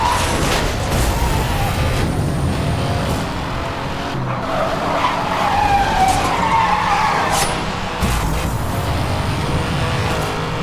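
Car drifting in Need for Speed: Hot Pursuit, with a loud, steady engine roar and long, continuous tire squeal and skidding running through the whole stretch, with no talk over it.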